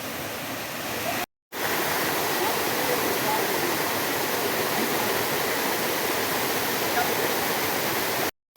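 Bissa waterfall, a steady broadband rushing roar of falling water, loud and constant from nearby with two short breaks.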